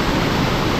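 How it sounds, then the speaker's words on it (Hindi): A continuous loud roar of falling water at Kewai waterfall in northern Pakistan, a dense and steady rushing wash heard up close with no other sounds. "केसाई वाटरफॉल"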